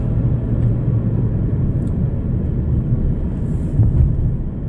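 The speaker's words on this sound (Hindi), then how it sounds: "ये आप देखें ट्रक जो है बिल्कुल आहिस्ता आहिस्ता चल रहे हैं" Trucks grind slowly up a steep mountain road, a constant loud low engine rumble heard from a vehicle that is also climbing, with no speech.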